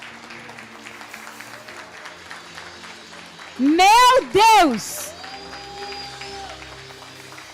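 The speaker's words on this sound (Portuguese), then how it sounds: "Você pode aplaudir o Senhor?" A church congregation at an Easter service applauds with a steady wash of clapping, broken in the middle by two loud shouted exclamations from a voice close by.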